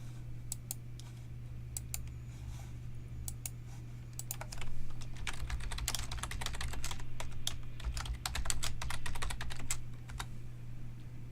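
Steady computer-keyboard typing with crisp clicks in uneven bursts, close and moderately loud over a constant low electrical hum, while data is entered into a table; no one speaks.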